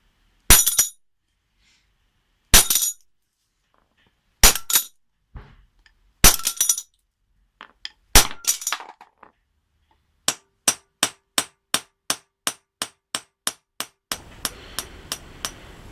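A hammer strikes a nut set on the pivot of cheap pliers resting on a metal block: five heavy, ringing metallic blows spaced a couple of seconds apart, then a quick run of about ten lighter, sharper taps, with a scraping rustle at the end.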